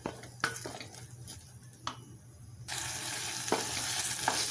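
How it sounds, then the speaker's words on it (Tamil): Tomatoes and masala sautéing in a pan for a chickpea kulambu, with a steady close sizzle, several sharp scraping stir clicks, and the frying growing louder and brighter midway through, no talking. "இந்த தக்காளி, அந்த மசாலா எல்லாம் நல்லா வதக்கிக்கலாம்."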